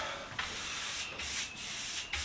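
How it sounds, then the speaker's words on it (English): Sandpaper rasps against an old polyurethane finish on a mid-century modern wooden coffee table in several short back-and-forth strokes, close and fairly quiet. "Now if I go any farther, I risk sanding through it"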